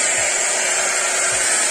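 A hair dryer runs steadily for a short stretch as frizzy hair is dried. The hiss is loud and close, with a faint low thump twice beneath it and no talking.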